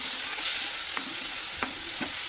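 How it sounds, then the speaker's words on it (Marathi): Chopped fenugreek greens stir-frying uncovered in a pan with cumin and garlic for a spicy Maharashtrian methi bhaji, a steady soft sizzle with a few sharp scrapes of the spatula at intervals, close and without talk. "त्यानंतर चिरलेली भाजी घालून मिक्स करू भाजीला झाकण न ठेवता शिजवून देऊ"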